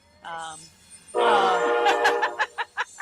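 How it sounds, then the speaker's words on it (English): A small train passes with a loud rumble and sounds its horn in several rhythmic blasts toward the end, a short tonal horn note leading in at the start. "the train shows up, and I'm not sure which one's louder"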